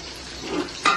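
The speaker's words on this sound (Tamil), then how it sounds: "இந்த ஸ்டேஜில் நம்ம ஒரு சின்ன கிண்ண அளவுக்கு தயிர் போட்டுருவோம்" Curd is dropped and stirred into frying biryani masala in a pan, a low, steady sizzle that swells slightly, ending with a brief, sharper splash of stirring.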